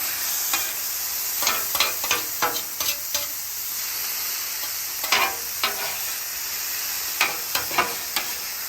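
Pepper steak frying on a hot griddle, a steady soft sizzle broken by repeated scraping stirs of a spatula, close and without talk.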